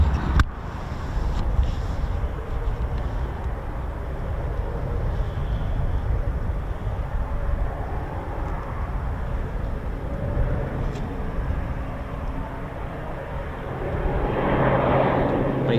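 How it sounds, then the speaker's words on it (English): A Shadow R1 surveillance aircraft, a King Air–based twin turboprop, passing at an RAF airfield, with a steady broad engine roar holding throughout and swelling slightly near the end. "Here comes a Shadow R1."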